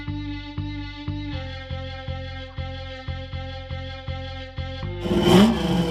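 A V8 Ford Falcon engine revs in a steady, rhythmic series of throttle blips over a droning idle, ending in a louder, rougher burst of revving.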